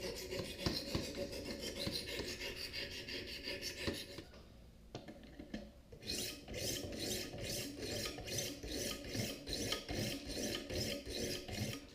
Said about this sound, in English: and I can go ahead and start the sharpening process